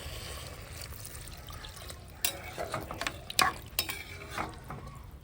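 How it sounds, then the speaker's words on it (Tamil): Water poured into sizzling curry in a hot pan, with bursts of sizzling and spoon scraping as the mixture is stirred; close and moderately quiet. "தண்ணி ஊற்றிக்கிறேன்"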